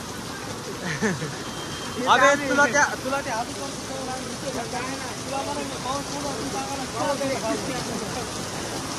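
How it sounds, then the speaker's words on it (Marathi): Heavy rain falls outdoors in a village during a downpour, a continuous thick wash of noise beneath several men chatting and calling out. "जोरदार पाऊस चालू आहे मित्रांनो."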